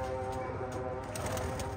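Pigeons at a pigeon club loft give a soft, continuous cooing murmur with faint wing flutters, steady and moderately distant throughout.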